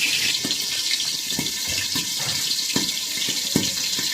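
Pieces of pangas fish frying in hot oil give a loud, continuous sizzle, with sharp crackling spatters and pops breaking through it at irregular moments.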